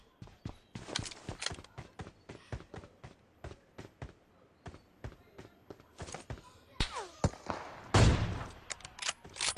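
PUBG gameplay gunfire arrives as a rapid series of sharp gunshots in irregular bursts, close and loud, with a heavier blast near the end and faint background game sounds.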